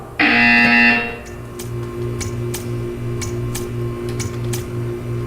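Loud harsh buzzer in Portal 2 sounds once for about a second, followed by a quieter mechanical hum with regular ticking clicks.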